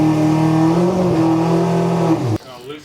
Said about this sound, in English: We just had the car fired up and making sure it was going to square up on the dyno.